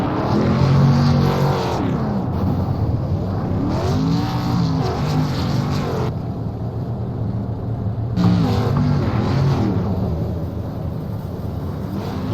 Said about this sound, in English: he's going to burn it down on the front stretch